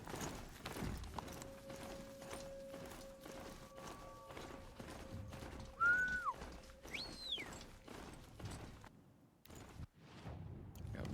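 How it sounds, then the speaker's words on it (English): A mechanical horse-like mount gallops in Horizon Zero Dawn, with a steady run of quick, even hoofbeat thumps at moderate loudness. Brief synthetic tonal chirps sound partway through, then a short pause breaks the rhythm near the end. "Let's go, horsey."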